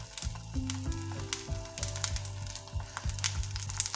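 An omelette frying in a pan over a slow flame gives a close, steady sizzle, with a tonal hum and occasional soft taps running underneath, and no voices.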